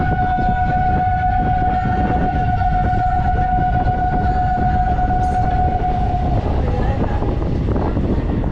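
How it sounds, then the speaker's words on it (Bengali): A train pulls out of Dankuni Junction with a heavy, steady rumble of wheels and cars, and a long sustained horn-like tone runs through most of it before fading near the end. "আমাদের ট্রেন এখন ডানকুনি জাংশন ছেড়ে যাচ্ছে।"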